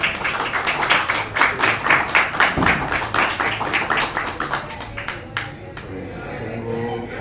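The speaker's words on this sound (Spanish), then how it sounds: "lo recibimos con un aplauso y empezamos" A small audience at a casual science talk over beers claps in welcome, a rhythmic run of loud, close hand claps that thins into a few scattered claps and then fades to quiet room noise.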